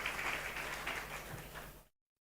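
A church congregation gives sustained applause, a broad wash of clapping that holds steady and then cuts off abruptly into silence.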